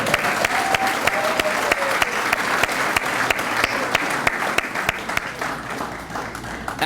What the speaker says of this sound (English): One more round of applause for Mr. Arietta, everybody.